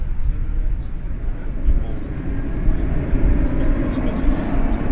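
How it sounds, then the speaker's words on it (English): A Qatar Airways Boeing 777 begins its takeoff roll at DFW Airport, a steady, broad jet roar that holds evenly throughout and is heard from a distance. "Qatar 777 back to Doha just lit up"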